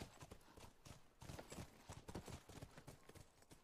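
Hooves clip-clop in a video game as a horse moves along at a steady, quick rhythmic gait, the beats faint and even throughout.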